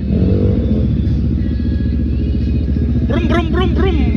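A motorcycle engine runs loud and close during an oil change and routine maintenance, a rough rhythmic idle rising into throaty revs near the end while people talk over it.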